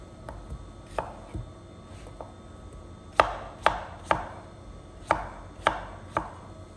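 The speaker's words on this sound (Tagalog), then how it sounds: "Hugasan na natin at i-slice na para ang kainin natin." Papaya being sliced with a knife, likely on a cutting board: a dozen or so sharp chopping taps, a few soft ones first, then louder, evenly spaced cuts, close and alone with no talk.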